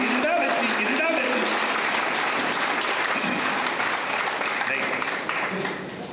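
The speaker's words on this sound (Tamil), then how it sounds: "இந்த அமைப்புக்கு ஒரு நல்ல கைத்தட்டு கொடுங்க." Audience at a comedy speech event breaks into loud, sustained applause, dense and continuous close by, tapering slightly toward the end with a few voices mixed in.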